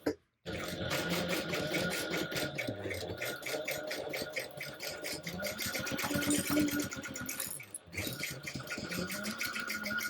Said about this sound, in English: I'm going to baste this all together at 1/8 of an inch seam allowance